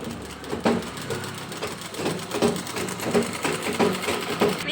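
A sewing machine stitching a blouse piece runs in a fast, even rhythmic clatter of needle strokes, with a soft mechanical hum underneath, close and steady throughout.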